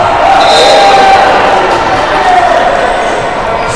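Volleyball crowd in a men's playoff match reacting to a missed serve: a steady, loud wash of arena noise and groaning voices that holds for several seconds and eases slightly at the end.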